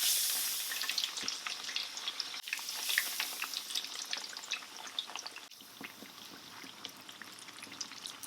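Steamed bun slices, dipped in water, deep-fry in oil at about 180°C with a dense, continuous crackling sizzle full of sharp pops, fairly close and unbroken.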